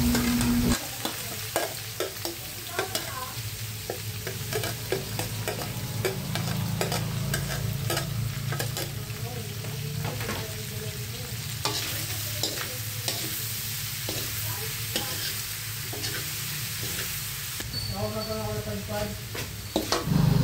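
Boiled, shredded stingray sautés in a pan, a continuous close sizzle punctuated by frequent scraping and clattering stirring strokes, with a voice briefly speaking over it.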